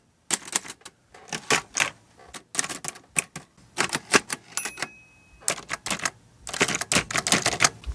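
A Hermes 3000 manual typewriter clacks in quick, uneven bursts of keystrokes with short pauses between, close and crisp, with no voices.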